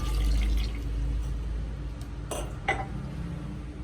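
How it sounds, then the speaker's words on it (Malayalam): Water splashes and trickles into a metal pot, with a couple of brief clinks of cookware close by and no talking. "ഒരു കപ്പ് വെള്ളം കൂടെ ഒഴിച്ചു കൊടുക്കാം."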